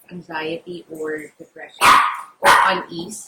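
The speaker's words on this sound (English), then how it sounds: "sorry about the dogs" Dogs bark twice in loud, sharp bursts close by, following a stretch of steady talking, with a softer yip or whimper in between.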